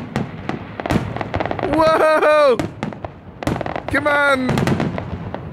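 Fourth of July fireworks in Bellingham, Washington: a rapid series of sharp bangs and crackles, near and loud, with whistling rising tones between bursts, while a person exclaims over them.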